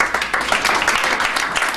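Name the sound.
audience applause for Mayor Booker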